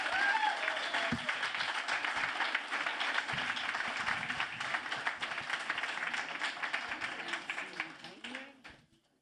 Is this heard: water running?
no